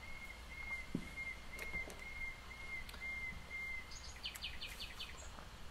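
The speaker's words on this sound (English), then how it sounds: "Listen to those birds." Birds sing outdoors, with faint, scattered chirps and thin whistled notes over a steady low background hum. There are no voices.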